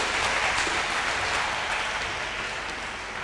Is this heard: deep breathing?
no